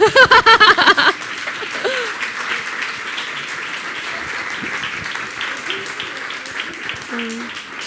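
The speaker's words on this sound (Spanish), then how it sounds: "Un aplausito, hombre." Applause from the audience at a science talk in a bar, steady and moderately loud after a brief burst of speech at the start, with scattered chuckles and voices mixed in.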